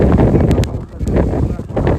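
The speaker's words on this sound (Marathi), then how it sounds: "वारा आहे एकदम." Heavy wind buffeting the microphone in Goa produces a loud, continuous low roar with gusty swells, and a voice is faintly audible beneath it.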